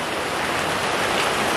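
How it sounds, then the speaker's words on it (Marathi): Heavy rain pours down outdoors in a Konkan village during Krishna Janmashtami, making a loud, dense and unbroken hiss with no voices. "बोलता बोलता पाऊस आलेला आहे"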